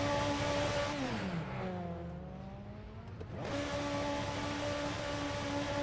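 BTCC 1999 touring cars in Assetto Corsa roar close by with high-revving engines, their pitch dropping through a downshift and then climbing again under hard acceleration, loud and continuous.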